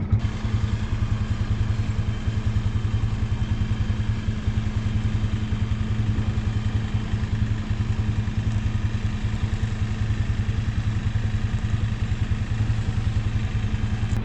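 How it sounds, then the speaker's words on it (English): A tractor hauling lumber through trees, its engine running as a steady, loud, rhythmic chug with a pulsing low throb and light clatter throughout, no voices. "coming down with the tractor and the lumber"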